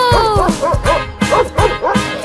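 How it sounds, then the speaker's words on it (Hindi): A farmer's dog barks in a Haryanvi children's rhyme: about six short, bright yipping barks come in a regular rhythm, loud and close over light backing music. "एक कुत्ता था किसान का, नाम था उसका बिंगो।"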